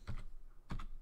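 Two quick keystrokes on a computer keyboard, shift and a quotation mark, sound as soft close clicks about half a second apart in a quiet room.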